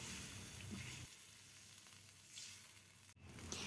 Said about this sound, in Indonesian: Jangan lupa tambahkan daun salam dan juga lengkuas. Kita tumis kembali sebentar.